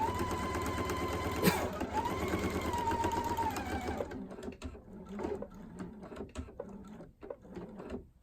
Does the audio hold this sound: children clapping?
no